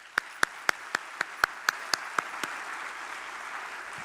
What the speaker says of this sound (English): A big, thunderous applause for all the teams out here.